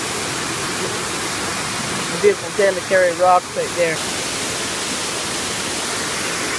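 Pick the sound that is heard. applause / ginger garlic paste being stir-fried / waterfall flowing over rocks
waterfall flowing over rocks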